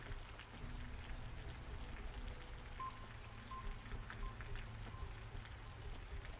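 Steady rain falls in the sci-fi survival game Osiris: New Dawn, a continuous dense patter with a low rumble underneath and a few faint higher tones from the game, heard alone without talk.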